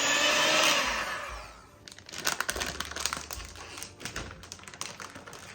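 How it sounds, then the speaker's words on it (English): An electric mixer works through a coconut candy mixture, with a loud whirring rush at first, then irregular clattering and tapping as the beaters knock through the thick mix, heard close up. "And then that all stirred in, but I'm going to use the mixer."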